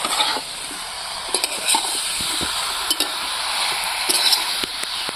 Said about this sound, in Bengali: এবার মাছটাকে দিয়ে দিলাম।